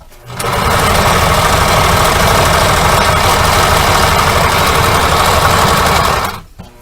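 A sewing machine runs nonstop for about six seconds, loud and close, stitching around the corner of a fabric cornhole bag with a steady, even whir.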